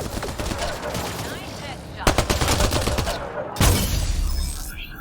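Gunfire from the video game Mass Effect: Andromeda: loud, dense bursts of shots with sharp cracks near the two-second mark and again past three and a half seconds, over a continuous busy battle din.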